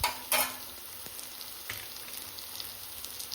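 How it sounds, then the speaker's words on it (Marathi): Onion and tomato sizzling and frying in a pan as ginger-garlic paste goes in, a steady close hiss with a few stirring clatters near the start. "आता आपला कांदा टोमॅटो मस्त शिजला आहे. मग त्यात मी टाकणार आहे हे आलं लसूणची पेस्ट"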